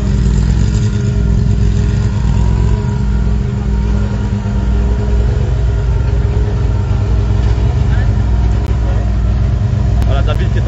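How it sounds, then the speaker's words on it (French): A Porsche 991 rally car at the Critérium Jean-Louis Dumont, its engine a loud, continuous low drone and rumble held steady throughout, recorded close with heavy wind or cabin noise, while a voice speaks over it. "ils vont très très fort ces deux-ci, à Christian Guillemin, David Segers sur la Porsche 991"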